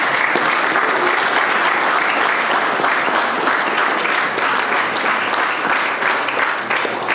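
A large congregation at a funeral service in Paris claps loudly and continuously, dense applause with rhythmic beats running throughout and faint voices mixed in.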